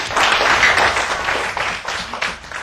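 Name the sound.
class clapping for the writer of the week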